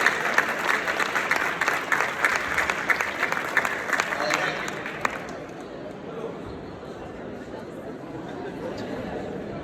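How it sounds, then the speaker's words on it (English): An audience at a fintech startup award ceremony applauds the winners with strong, close clapping that fades out midway, leaving quieter room murmur and chatter. "Give them a very big round of applause, guys. This is your applause."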